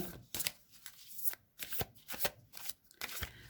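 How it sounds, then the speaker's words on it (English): A Nature's Whispers card deck is riffled and shuffled repeatedly, a crisp flapping patter in quick bursts, close by and fairly quiet. "we'll shuffle these cards"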